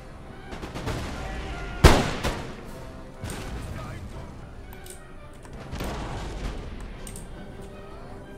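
Musket volley fire in an Empire Total War battle with Russian line infantry: one loud, sharp crack of massed shots, followed by rumbling volleys further off, with someone talking over the din.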